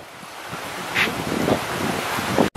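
River water flowing beside the Narrows Trail in Zion, a steady broad rush heard close against wind noise on the microphone, with a few brief louder swells.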